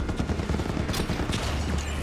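Turrets in the video game Halo 5: Guardians fire in a dense, continuous volley, the rapid loud shots overlapping into a rattling barrage for about two seconds.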